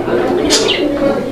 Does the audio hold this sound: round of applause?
no